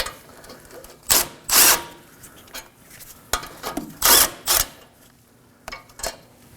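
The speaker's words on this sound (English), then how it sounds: "Now let's remove the bracket, and for that we're going to use a 19mm and a breaker bar." Brake caliper bracket bolts on a 2014-2020 Acura MDX front brake loosened with a 19mm socket on a breaker bar, several sharp metallic clicks and clunks in irregular bursts over quiet background.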